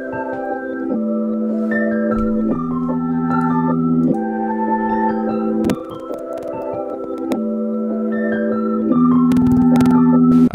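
Ambient trap melody loop built in FL Studio 20, with sustained layered synth chords, bright bell-like lead notes and a deep low bass changing every couple of seconds, played steadily and loud with no voice.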